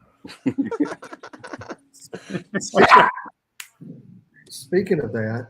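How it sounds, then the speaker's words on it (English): A loud dog barks in the background, a few sharp barks breaking through as someone talks over it during a fishing kickoff broadcast. "sorry about that loud dog in the background."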